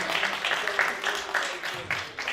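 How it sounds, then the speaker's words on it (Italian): An audience at a Sicilian press conference gives a burst of applause: a steady, close wash of clapping that carries on throughout, with voices mixed in underneath. "Un applauso ad Alessio Patti."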